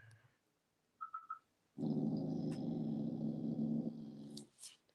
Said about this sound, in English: y'all heard that dog?